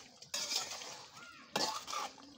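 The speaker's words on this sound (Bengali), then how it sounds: "এই দেখতে পাচ্ছ এটাকে একটু নাড়াচাড়া করে দিচ্ছি" Chicken meat is stirred in a pot over a clay stove, giving two bursts of scraping and clinking of a utensil against the pot with quieter sizzling between them.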